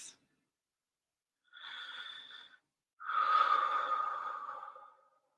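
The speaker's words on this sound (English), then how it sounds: "take a couple of deep breaths" Two slow, deep breaths taken during a guided relaxation, a shorter inhale-like rush followed after a pause by a longer, fuller breath, close and soft with no talking.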